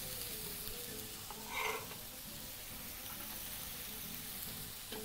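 Red onions sizzle in an oiled hot pan, making a quiet, steady hiss with a brief louder burst near the middle. No one speaks.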